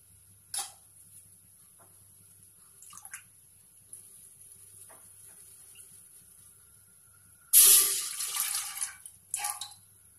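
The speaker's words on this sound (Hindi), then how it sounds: "मैंने जिस कटोरी में चावल लिया था उसी कटोरी में मैं एक कटोरी पानी दूंगी।" Water is poured from a bowl into a pressure cooker on a gas stove while zarda rice is being made. A few light clinks come first, then a short splashing pour rushes in near the end, followed by a brief trickle.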